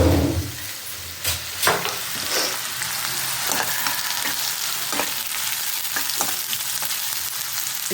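Two cups of onions and four green chillies fry in a pan with a steady sizzle, stirred now and then with sharp scraping clinks, all near and alone without speech.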